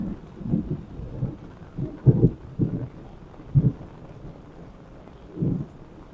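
Thunder rumbles repeatedly through a heavy rainstorm in the Ouachita National Forest, a series of low, deep rolls and cracks rising over steady rain, some nearer and sharper, with no voices.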